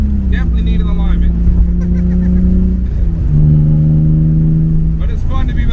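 A BMW E36 sedan drift car's engine drones loudly up close while driving, its pitch rising and falling through gear changes, with no talking over it.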